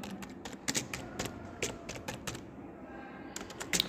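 Computer keyboard keys clatter in quick irregular bursts while C code is typed, close and clear, with a brief pause midway and no talking.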